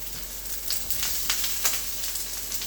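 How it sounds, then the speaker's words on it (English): Onions frying in a hot pan give a steady, close, moderately loud broadband sizzle, with brief crackling pops scattered through it and no talking. "Get our onions going. Pan is nice and hot."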